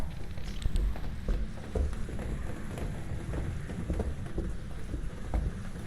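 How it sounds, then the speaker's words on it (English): Rain falls in a ghost hunting game, a steady close hiss and patter with low rumbling underneath that holds for several seconds, with no voices. "That was the rain."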